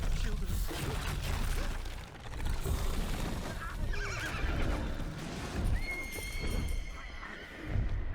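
A horse whinnies and neighs amid clip-clopping hooves and game effects in a tech demo for The Witcher 4 in Unreal Engine 5, loud and busy, with voices talking over it.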